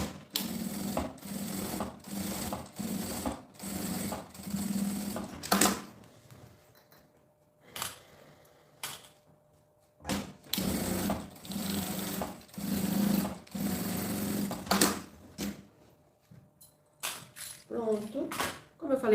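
A sewing machine stitching a small school bag, or maletinha, runs in quick, rhythmic mechanical bursts close by, pausing repeatedly, with brief handling sounds in the gaps.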